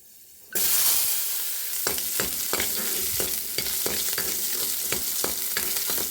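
Fenugreek seeds, about ten garlic cloves and ten small shallots sizzle and fry in sesame oil, a loud hiss bursting in as they hit the pan, followed by steady crackling with repeated scraping stirs.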